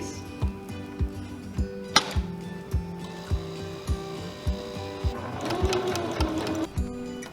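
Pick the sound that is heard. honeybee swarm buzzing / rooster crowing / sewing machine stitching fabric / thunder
sewing machine stitching fabric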